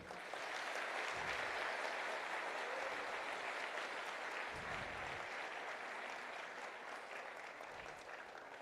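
An audience at a women's event called Devi applauds steadily and evenly throughout, soft and distant, with no talk over it.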